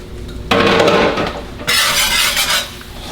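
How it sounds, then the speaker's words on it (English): Butter and flour stirred in a cast iron pan with a utensil: two bursts of scraping, clinking stirring over a faint sizzle, close and fairly loud. "We're gonna sprinkle that in and mix this around."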